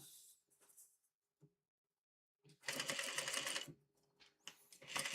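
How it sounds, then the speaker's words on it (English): A sewing machine back stitching runs in short bursts of rapid mechanical clatter with quiet pauses between them, then two longer runs of stitching close to the mic. "Back stitch a little bit."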